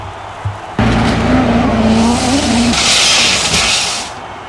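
A Majorette diecast Citroën C3 World Rally Champion car runs down a toy race track, a sudden loud rolling rush with a rising whine, steady for a few seconds, then a hissing surge before fading out.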